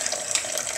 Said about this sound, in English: we're using clean water in a clean sink.